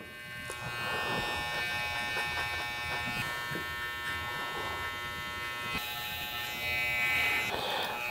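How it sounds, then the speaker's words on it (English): Mini hair clippers buzz steadily while cutting hair up to the zero line of a textured crop top fade, a close, continuous electric whir that wavers slightly as the blades move across the head. "we're just working the mini clippers up into the zero line"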